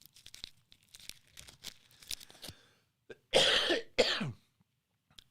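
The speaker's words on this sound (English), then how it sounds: "I have this little cough" A woman with an allergy-related cough gives two sharp, close coughs in quick succession after a stretch of faint rustling and small handling clicks.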